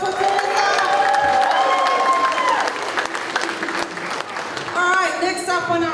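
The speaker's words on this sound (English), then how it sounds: "Can we have another round of applause for Teresa?" Guests at a Cook Islands wedding reception give Teresa another round of applause, loud clapping mixed with cheers, whoops and shouting voices, with a singing or calling voice drifting over the crowd.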